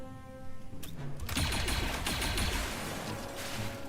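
Rapid blaster fire crackles in a dense volley from a squad in the Star Wars Zero Company video game. The burst is steady and fairly quiet and lasts a few seconds over a humming background with no talk.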